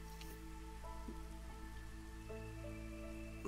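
Steady soft rain patters without pause as light drizzle in the village-building game Against the Storm, an even wash of hiss over faint tonal music throughout.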